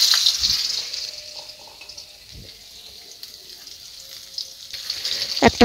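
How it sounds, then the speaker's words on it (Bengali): Potato pieces fry in hot oil in a wok, giving a loud, close sizzle that flares at the start, settles to a softer steady hiss, then rises again with crackles near the end. "এখন আমি আলুটা দিয়ে দেব তেলের উপর। আলুটা একটু ভেজে নেব।"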